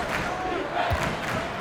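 Virtual arena crowd in NBA 2K23 roaring steadily after a dunk in a basketball game, a dense sustained wash of cheering and shouting with no pauses.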